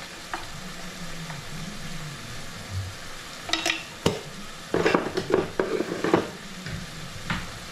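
Ground meat sizzles in a hot pan with pepper and fish sauce added while a utensil scrapes and stirs, with clattering knocks against the pan in bursts.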